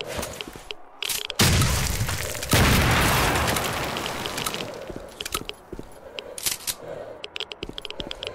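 A grenade goes off in STALKER: Shadow of Chernobyl with two loud, heavy booms close together and a long rumbling tail, followed by scattered clicks and lighter pops.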